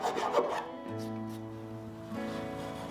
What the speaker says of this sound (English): I'll take a round rasp and widen the holes on the four outer tenons.